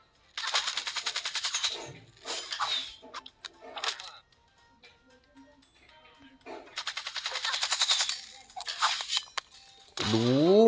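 Rapid bursts of automatic gunfire from the Zooba video game, with long loud volleys separated by brief pauses and a few single shots, ending in a rising whine.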